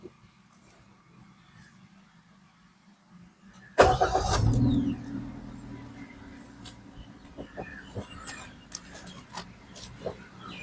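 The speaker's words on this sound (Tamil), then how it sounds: "வண்டி ஸ்டார்ட் பண்ணும்போது அந்த ஒரு சின்னதாக ஒரு சவுண்டு கேட்குது அதாவது என்ஜின் சவுண்டு தான்" A Maruti Suzuki Wagon R ZXI petrol engine cranks and catches with a sudden loud burst, then settles into a steady idle, with faint clicks and rustles in the background.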